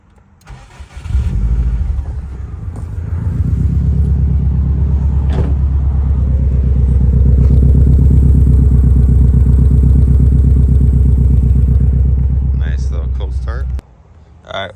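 A 2004 Subaru WRX with an upgraded Blouch turbo and injectors cold-starts close by, then settles into a loud, steady rumbling idle that runs unbroken for over ten seconds before cutting off abruptly.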